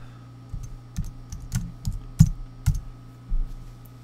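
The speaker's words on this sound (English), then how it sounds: "type in sitemap" Keys on a computer keyboard are tapped in a short burst of typing, with about eight distinct clicks in an uneven rhythm, close and fairly crisp against a quiet background.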